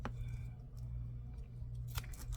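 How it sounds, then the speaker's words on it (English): Scissors snip through craft material, with a few crisp cuts close by over a steady low hum. "Let me just cut 2 pieces."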